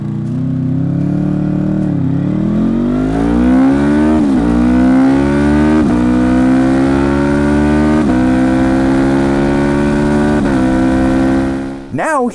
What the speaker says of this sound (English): here's a clip of me launching my VFR in a pretty lazy fashion just to see what it would do